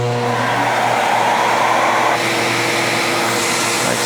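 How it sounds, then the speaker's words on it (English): A shop vacuum drives a homemade CNC vacuum table, a loud steady roaring whine with an airy rush that shifts in tone partway through as the suction changes, running alone close by. "Turn on my vacuum."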